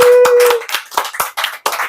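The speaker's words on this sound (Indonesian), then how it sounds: "Boleh tepuk tangan lagi." Several sharp bursts of hand clapping from an audience at a motivational talk, short and uneven in rhythm, separated by brief gaps, with a faint voice trailing off at the start.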